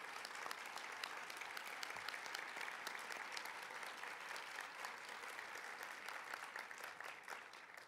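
Audience at an American Legion Auxiliary convention session applauding performers and veterans, a long, even roar of many hands clapping, fairly distant and steady throughout with no speech over it.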